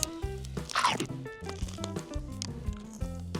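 Close crunching bite into a crispy, freshly deep-fried oyster fritter from a small shop in Luzhou, Taiwan, one loud crackling burst followed by softer chewing crunches.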